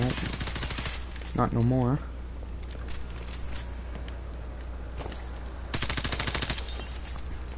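Rapid automatic gunfire bursts from the video game Modern Warfare Remastered rattle loudly at the start and again near the end, with a short stretch of talk in between and softer game noise throughout.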